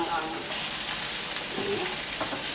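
Smoked grilled fish drops into a hot frying pan for a village-style corn rice dish, setting off a loud, dense, continuous sizzle that holds steady throughout.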